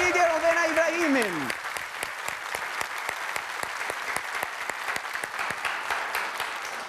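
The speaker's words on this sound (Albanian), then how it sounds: "E përcjellim me një duartrokitje Rovena Ibrahimin." A studio audience on an Albanian television show breaks into rhythmic applause as a musical sting fades out, then settles into steady clapping for the rest of the stretch.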